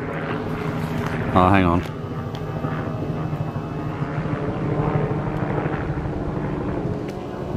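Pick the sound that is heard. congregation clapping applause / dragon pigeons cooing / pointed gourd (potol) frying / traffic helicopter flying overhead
traffic helicopter flying overhead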